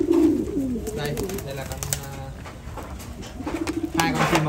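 Pigeons coo in low, throaty, rolling calls inside a breeding cage, with a pair that has just had its young separated and is about to lay again, while someone talks close by.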